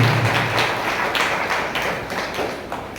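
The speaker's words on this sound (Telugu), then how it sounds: "అందరు గట్టిగా చప్పట్లు కొడుతూ" A church congregation gathered for a Marian feast-day Mass claps loudly and steadily for about three seconds, with rhythmic applause filling the hall and no speech over it.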